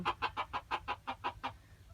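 Chicken clucking close by, about eight quick evenly spaced clucks in a steady rhythm that fade out near the end.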